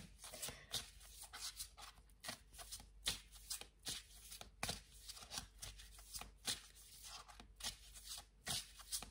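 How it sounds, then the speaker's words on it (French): Oracle cards being shuffled and drawn by hand in a quiet room for a love-message reading, giving repeated soft riffling and flicking bursts in an irregular rhythm, close and fairly faint, with no talk. "Alors j'ai encore une carte à tirer avec cet oracle."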